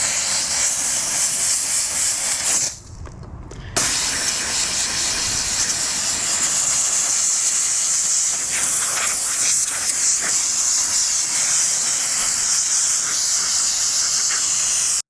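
Grant's steam cleaner from Harbor Freight blasting through its extension nozzle, a steady loud hiss of steam that cuts out for about a second early on, then runs on continuously with no talking.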